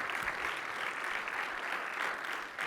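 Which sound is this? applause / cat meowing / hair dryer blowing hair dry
applause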